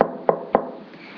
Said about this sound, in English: When he knocked on the door,